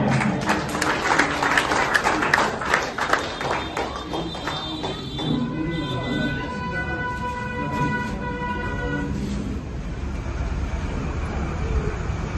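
A crowd at a state coordinator office opening in Daltonganj claps loudly for a speaker, the busy applause giving way midway to a sustained, wavering tonal whine over background noise.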